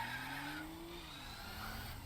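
Gran Turismo 4 wagon with a boxer engine, a steady droning engine note rising slightly in pitch then easing, with faint tire noise, quiet and continuous with no talking.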